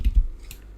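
Scissors snip through a length of cord at a craft table, making two quick soft cuts close together and then a fainter click, with no talking.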